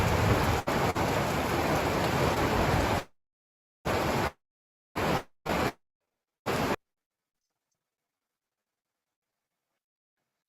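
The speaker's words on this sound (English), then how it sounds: "Heavy downpour." Heavy downpour during a severe storm, a dense steady hiss of rain for about three seconds, then cutting off into short bursts and silence.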